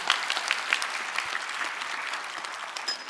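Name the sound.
applause from church congregation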